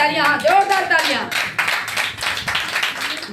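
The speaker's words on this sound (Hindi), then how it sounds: "हाँ, तालियां, हाँ, जोरदार तालियां" A church congregation claps loudly during a Sunday sermon, rhythmic hand claps following a preacher's voice at the start, close and forceful with a few bursts.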